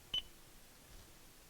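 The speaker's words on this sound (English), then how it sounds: "wait for the beep" A single short electronic beep from the phone pairing system of a 2012 Toyota Tundra, clear and brief, followed by quiet cabin ambience.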